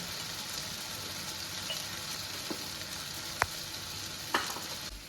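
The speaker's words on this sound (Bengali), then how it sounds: "মশলাটা আমি ততক্ষণ কষাবো যতক্ষণ এটা থেকে তেল না ছাড়ছে" Spice masala fries in oil with a steady, even sizzle throughout, close and fairly loud, with a couple of sharp spoon taps against the pan; no voices.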